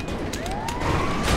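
A wailing ambulance siren in the video game GTA 5 sweeps steadily upward in pitch, loud and close over a dense rumble of engine and road noise, with no voices.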